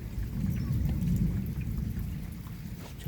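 A heavy thunderstorm in Montady with strong rain and frequent lightning, a steady dense hiss of rainfall over a deep continuous rumble of thunder.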